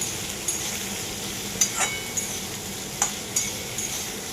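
Drumstick and potato with salt sautéing in a pan, a low steady sizzle with a few scattered clinks and scrapes of a stirring spoon, moderately quiet and close, no speech.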